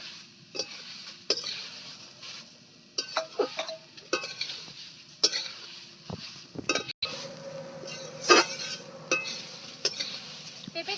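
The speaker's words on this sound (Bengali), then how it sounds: "এবার গ্রেড করা পেঁপে গাছটা দিয়ে দিলাম খুব ভালো করে এটাকে ভাজতে হবে" Grated papaya stem fried in a karahi with bay leaf and cardamom gives a soft, low sizzle under intermittent scraping and clinking of a spatula stirring against the pan, the strokes coming in irregular bursts.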